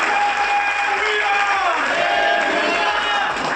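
A church audience claps together, steady dense applause with some crowd noise throughout and a voice speaking over it.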